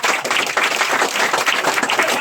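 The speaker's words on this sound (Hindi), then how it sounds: "ताली मार देना जी।" A loud, dense burst of clapping from a crowd fills a free-education event as a student is honoured, steady and close with no break.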